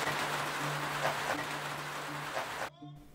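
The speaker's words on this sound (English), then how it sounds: "It is raining like a mother effer." Steady, dense rain pours down on Tierra del Fuego for a few seconds, a constant hiss with scattered drops, then cuts off abruptly.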